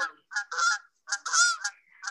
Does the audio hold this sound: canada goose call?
yes